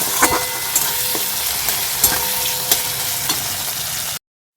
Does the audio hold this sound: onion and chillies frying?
yes